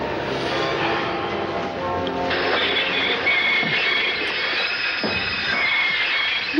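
A steady, loud mechanical rumble of a train in motion, with rattling and occasional metallic clanks and a faint squeal throughout.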